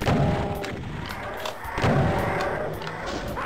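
Heavy booming shots from the video game Doom thud out at intervals, echoing with a dull, muffled punch, heard through speakers.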